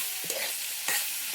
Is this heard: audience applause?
no